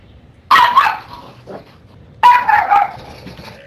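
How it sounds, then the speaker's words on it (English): Dogs barking at home in two loud, close outbursts of sharp barks with whiny yips, separated by a short quiet gap with a soft whimper. "My dogs are being idiots."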